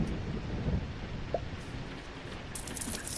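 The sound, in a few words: rain falling outside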